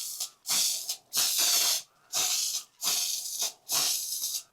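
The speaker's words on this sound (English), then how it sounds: "We're gonna give these a couple coats of this beautiful gold spray paint." Five bursts of gold spray paint hissing from an aerosol can onto small goose figures, each lasting most of a second with short pauses between, close and loud.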